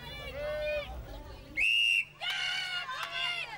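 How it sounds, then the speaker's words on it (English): A woman shrieks encouragement at a strongman competitor during the car-shifting Arm Over Arm event at the 1995 World's Strongest Man, her high, shrill cries rising over a noisy, excited crowd. "his girlfriend, Kristen, absolutely shrieking at Magnus"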